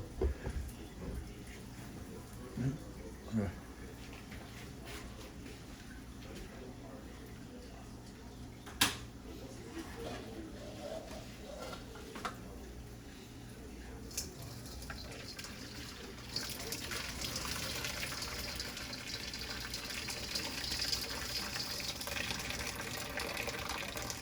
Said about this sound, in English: we want to drain this water off of this because this pasta can come out just now